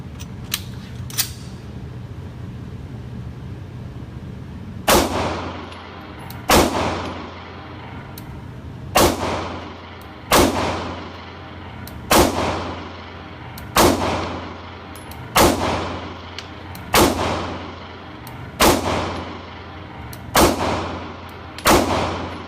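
A Beretta APX pistol fires at a shooting range: about a dozen sharp, loud shots spaced a second or two apart, each ringing off briefly, after a quiet start.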